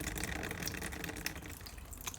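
Coolant pouring steadily from beneath a Ford Focus 1.6 diesel engine, a continuous close splashing trickle of liquid with no pauses, heard alone without talk.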